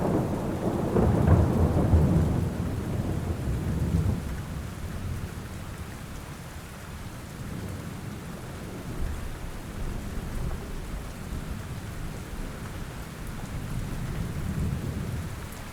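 Steady heavy rain patters on surfaces throughout while deep thunder rumbles loudest at the start and rolls on faintly underneath, with no voices.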